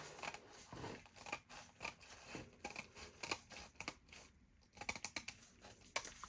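Scissors snipping through plastic film, close and quiet: a run of crisp, irregular cuts and clicks coming in quick bursts with short gaps between them.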